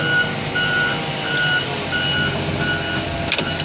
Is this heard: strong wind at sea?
no